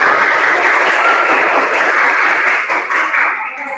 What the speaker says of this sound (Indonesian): tepuk tangan untuk kalian semua ya